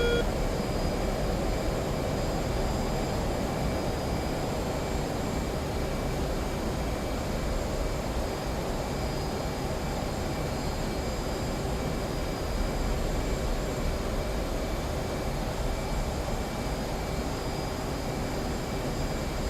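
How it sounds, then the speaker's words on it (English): An F/A-18 jet engine on afterburner in the DCS World flight game over the Persian Gulf, a continuous loud roar holding steady throughout with no voices. "I lost him probably due to speed, so let's get into a bit of an afterburn"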